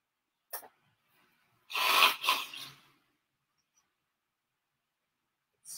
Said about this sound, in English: I have to sneeze as much as I can